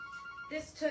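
Phone rings indoors with a short electronic ringtone, a brief melodic tone pattern heard for under a second, moderately loud.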